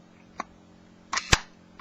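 A Nikon S rangefinder camera fires its shutter, a small click followed by a sharper double mechanical snap, close and alone in a quiet room.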